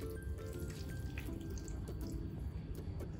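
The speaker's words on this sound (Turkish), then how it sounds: "1 çay bardağı da su ekliyorum." Water poured from a tea glass into a minced meat mixture for an oven dish, a steady close splashing trickle lasting throughout with no talking.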